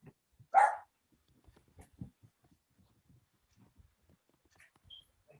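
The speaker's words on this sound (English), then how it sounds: "I'm just going to quickly go and stop the dog." A single sharp dog bark rings out near the start, followed by faint scattered household sounds and soft murmurs in an otherwise quiet room.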